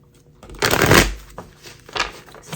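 Shuffling of a Santa Muerte tarot deck, heard up close: a brief quiet lead-in, then a loud rustling riffle, followed by a couple of lighter card flutters, with no one speaking.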